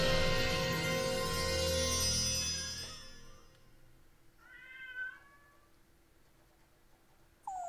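A little black cat in the 2007 Wii game Super Mario Galaxy meows in a few short, clear cries after a dense burst of game sound fades, followed by a brief high chirp at the end.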